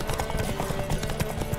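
Horse hooves clip-clop steadily in Witcher 3 on Death March difficulty, a brisk rhythmic patter of hoofbeats at moderate distance over busy ambient game sound, with no talk.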